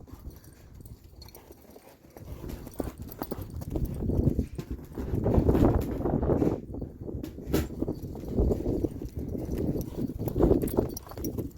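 Horse loping in a smaller round pen, a quick, rhythmic run of hoofbeats that grows louder as it nears and then continues in steady repeating strides.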